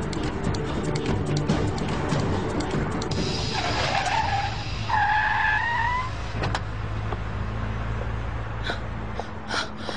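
Car in a chase scene speeding and skidding, with loud engine roar and several rising tyre squeals in the middle, fading into steady road noise.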